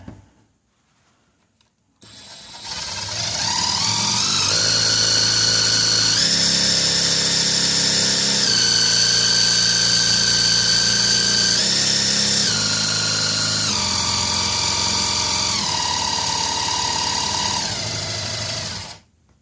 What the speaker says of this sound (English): So I just set up my cordless drill with a 1/4 inch socket, and I'll spin that